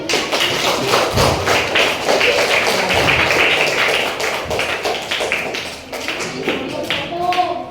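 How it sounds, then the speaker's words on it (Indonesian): Group of students applauding in a classroom, a loud, dense patter of clapping with sharp individual claps and thumps, tapering slightly after a few seconds while voices chatter underneath. "Tepuk tangan dulu."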